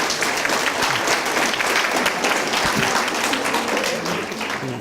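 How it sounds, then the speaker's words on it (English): Sustained, loud applause from an audience at a college talk event, thick continuous clapping that holds steady for several seconds and eases slightly at the end. "let me give you a round of applause"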